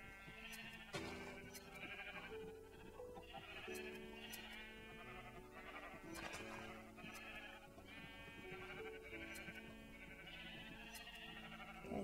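Several sheep bleat in Minecraft over game background music, their calls coming at irregular intervals and overlapping at moderate loudness with no talking.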